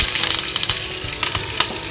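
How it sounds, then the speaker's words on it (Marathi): Chopped onion, garlic and ginger masala sizzles and crackles in hot oil for a dal tempering in a home kitchen, a close, continuous frying hiss with sharp pops and stirring. "आपल्या डाळीची फोडणी देते।"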